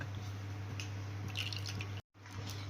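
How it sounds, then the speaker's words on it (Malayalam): Coconut oil is poured into a heated pan for a fish curry, making quiet dripping and trickling sounds over a steady low hum, with a brief dropout near the end. "വെളിച്ചെണ്ണയാണ് ഒഴിക്കുന്നത്. ഒരു 2 തുടം വെളിച്ചെണ്ണ."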